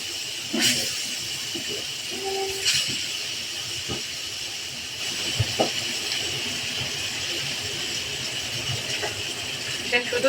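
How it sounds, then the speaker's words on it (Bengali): Rohu fish pieces lightly frying in a pan give a steady, moderate hiss with scattered small pops and crackles, and a few faint background tones run beneath it. "আর এদিকে আমি রুই মাছগুলো হালকা ভাজা করতে দিচ্ছি।"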